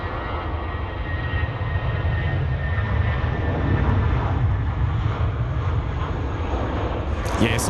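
A Jetstar airliner landing at Sydney Airport: a loud, steady roar of aircraft engines that holds at a constant level for the whole stretch, close by, with some faint voice-like sound mixed in.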